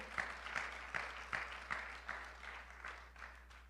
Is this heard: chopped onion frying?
no